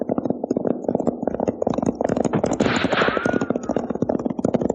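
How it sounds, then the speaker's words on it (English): Gunfire in a 1949 Western film gun battle crackles as a dense, continuous stream of rapid shots, loud and sustained throughout with a rushing swell midway. "That sounds like a regular gun battle."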